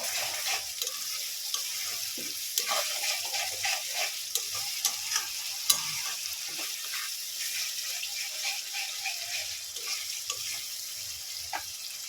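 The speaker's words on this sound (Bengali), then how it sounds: "আদা রসুনের পেস্ট ভালো করে মশলাটাকে কষিয়ে নেবে" Ginger-garlic paste and spices sautéed for chicken do pyaza, with a steady close sizzle in the pan and intermittent scraping and stirring strokes, no voices.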